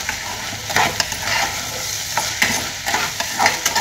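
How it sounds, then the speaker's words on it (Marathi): Rice roasts in hot oil with cumin seeds in a pan, a close, bright crackling sizzle with repeated scraping strokes of a spoon stirring the grains at an uneven rhythm. "तेलामध्ये त्याने तेल आणि जिरं टाकले, त्यामध्ये तांदूळ चांगला भाजून घ्यायचा."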